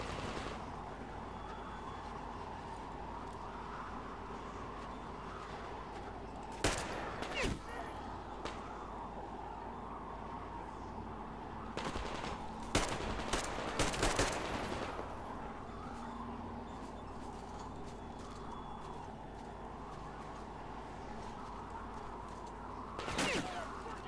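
Bursts of gunfire from the video game Metro Exodus crack out in a few clusters over steady game ambience, with scattered shots near the start and middle and one more at the end.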